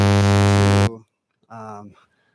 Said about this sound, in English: That's the buzzer, Eric.